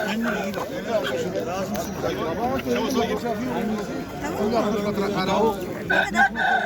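Chickens and roosters cluck and crow amid busy market chatter at a poultry market in İzmir, Turkey, people talking throughout over the dense, continuous din of fowl.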